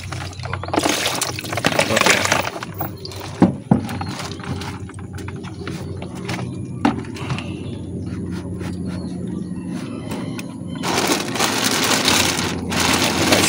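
Broth ladled over freshly cooked seafood such as grouper and mixed fish, a steady splashing pour that swells and fades, set against busy background noise.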